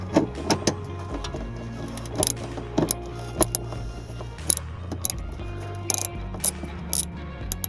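A T25 Torx screw is worked loose from the front bumper of a Mercedes E-Class W211, producing close, clicky ratcheting and scraping bursts, scattered irregularly over a low steady hum.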